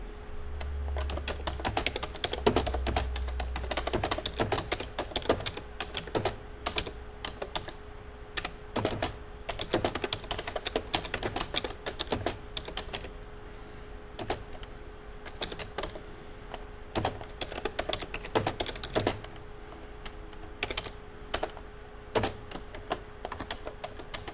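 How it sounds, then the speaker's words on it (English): Steady typing on a computer keyboard during software setup: close, irregular bursts of quick key clicks run throughout, with brief pauses between runs and no voices. "So this is what I'm going to type in here."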